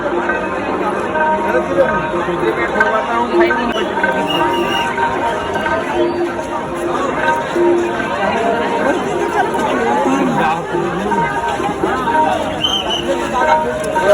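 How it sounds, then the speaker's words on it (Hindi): Dense crowd chatter fills the grounds of the Damakheda fair near a temple gate, a steady close murmur of many voices throughout with occasional nearer calls and faint horse sounds mixed in. "ये देखो भीड़ कितना है"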